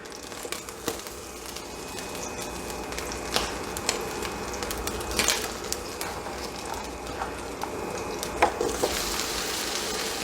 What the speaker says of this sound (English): we're going to get our potatoes in the frying pan